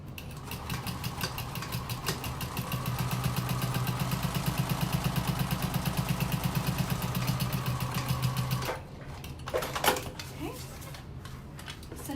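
A sewing machine stitches fabric for a slouchy tote bag, with a steady rapid whir of needle strokes for several seconds before stopping, followed by a few handling clicks.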